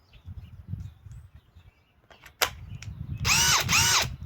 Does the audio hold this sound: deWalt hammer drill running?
yes